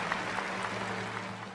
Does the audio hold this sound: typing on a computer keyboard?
no